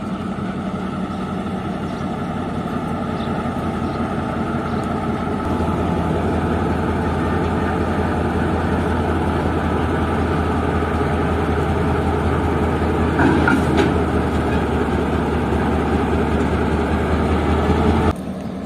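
A GMC U15 diesel locomotive, number 4903, couples onto the lead of the Jand Passenger train after changing direction, its engine holding a steady low idling rumble throughout with a brief louder swell near the end.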